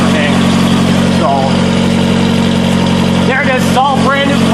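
A truck engine idles through a brand-new, leak-free exhaust pipe running front to back, a loud, steady low drone throughout, with a few brief high chirps on top.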